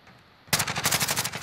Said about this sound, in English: They were shooting at somebody.